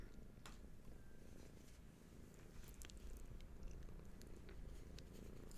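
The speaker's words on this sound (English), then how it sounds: "Oh, we've got a cat purring." Domestic cat purring, a soft continuous low rumble, faint and close, steady throughout with a few light clicks on top.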